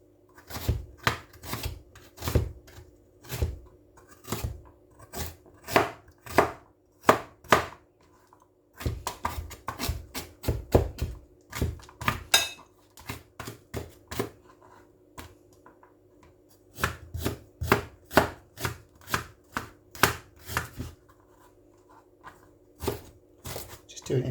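A knife chops fresh ginger into strips for a Thai green curry, making quick, steady cutting taps on a board that come in bursts with brief pauses.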